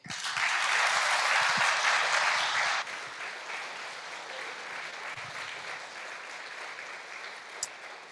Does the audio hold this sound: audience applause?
yes